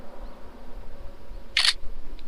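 A single crisp camera shutter click sounds once while a photo is taken of a Toyota Wish engine room, standing out sharply against a quiet, low background hum.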